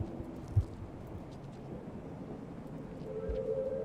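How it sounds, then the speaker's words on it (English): Low, rumbling thunder and rain-like ambience from the video game Rain World roll steadily beneath a faint distant boom, with a soft hum rising near the end. "there's no transition between the ambient sounds playing, like the thunder"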